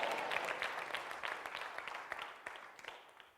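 A church congregation at a Bible study session claps hands together in a dense, steady burst of applause that fades slightly toward the end, with no voices over it.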